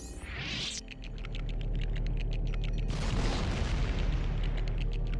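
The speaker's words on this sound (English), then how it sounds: "You think the explosion would hurt him" Booming explosions in LEGO Star Wars: The Complete Saga, Droid Factory level: a heavy blast near the start and another around the midpoint, set against game music and rapid clicking effects.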